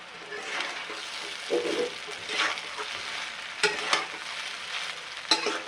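Sabudana khichdi being stirred in a pan, a soft frying sizzle broken by intermittent scraping strokes of a spoon against the pan, close and fairly quiet.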